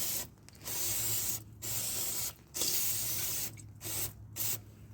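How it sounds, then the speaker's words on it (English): Aerosol can of brake cleaner sprayed during a rear differential fluid change, heard as five or six hissing bursts of varying length separated by short pauses, fairly faint and close with no talking. "they say, oh, you gotta clean it with brake cleaner after"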